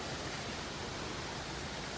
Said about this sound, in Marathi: ओहो क्या वॉटरफॉल है